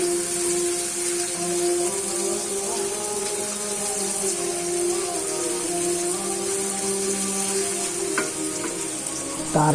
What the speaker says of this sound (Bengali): এই সময়টা ধীরে ধীরে মনোযোগ সহকারে 4 মিনিট ভেজে নিব।